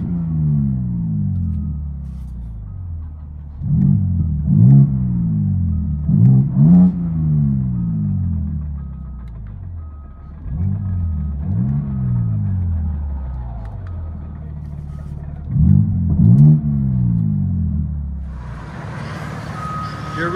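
A 2023 BMW M4 Competition with a 3.0L twin-turbo I6, X-pipe delete and exhaust valves open revs repeatedly in loud rising and falling bursts over a rumbling idle.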